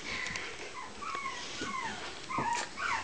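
Several relaxed puppies let out soft, high whimpers and short yips in a close, quiet setting, the thin whines rising and falling in brief repeated bursts with no talking.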